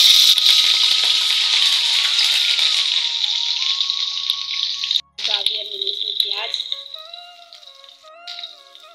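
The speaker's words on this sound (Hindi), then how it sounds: "अब डालूंगी मैं इसमें बारीक कटी हुई हरी मिर्च।" Finely chopped green chillies dropped into hot oil with browned cumin, a loud close hiss and crackle of frying that fades gradually, with a brief clatter and soft kitchen rattles after.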